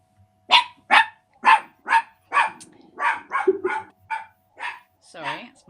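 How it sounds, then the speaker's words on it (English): A pet dog barks about a dozen times indoors in a fairly even rhythm, each bark short and sharp, moderately faint and heard on its own without talk. "Sorry, that's my dog barking."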